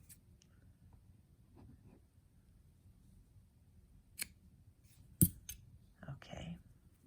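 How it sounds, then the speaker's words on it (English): Scissors snip through crochet yarn after a flower appliqué is finished, a few quiet, close cuts with soft handling noise in a hushed room. "then we can cut it off now"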